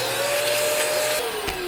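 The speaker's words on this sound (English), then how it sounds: "The vacuuming." Whining vacuum cleaner used without an attachment to clean a Singer 15-91 sewing machine, a loud steady hum with a shifting pitch and a brief bump near the end.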